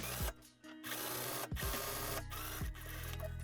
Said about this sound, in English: we're going to close the center front seam right there